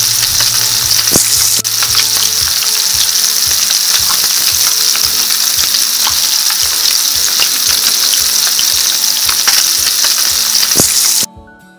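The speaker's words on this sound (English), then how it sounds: "Be sure you brown it on all sides real well to form a nice crust." Meat for a burrito browns in a hot pan with a loud, dense, continuous sizzle and crackle, close up and uninterrupted, cutting off abruptly at the end.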